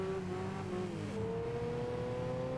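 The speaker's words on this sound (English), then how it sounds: "That was some high revs going through shift in the third." Engine of a Japanese 1980s car in the Gran Turismo 5 video game revving high and shifting gear, a steady loud harmonic drone dipping in pitch at the shift near the middle, then holding, with no talk over it.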